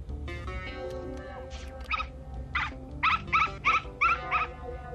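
A dog indoors in a facility lets out a run of sharp, high yelping barks and whines that grow more insistent, heard over a low background hum.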